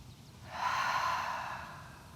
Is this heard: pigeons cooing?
no